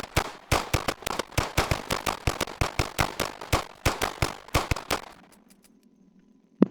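Rapid pistol shots from a Glock in an Arma 3 weapons mod ring out in a fast, steady string of about twenty sharp cracks, then stop, leaving a faint hum and one last click.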